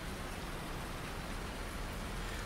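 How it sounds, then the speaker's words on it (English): Steady rain in the farming video game Farming Simulator 19, played on PS4, a dense, even hiss of falling drops with no breaks and no speech. "I want to get rid of this rainy weather."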